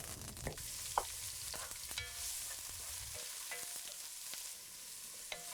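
Green chillies, ginger, garlic and curry leaves are stirred in a hot frying pan for a Kerala pork dish, a soft steady sizzle with scattered spoon scrapes and clicks against the pan, fairly quiet and close.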